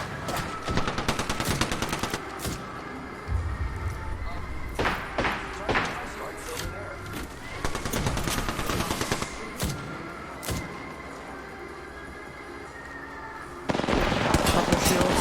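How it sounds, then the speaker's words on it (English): A video game firefight with sustained bursts of close automatic gunfire, scattered single shots and impacts, heavy at the start and end with a quieter stretch between. "they're shooting me in the back"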